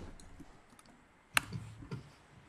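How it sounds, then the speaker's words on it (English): A few sharp computer mouse clicks, one prominent and a couple softer, scattered over quiet room background with no talking. "I keep clicking on the same one."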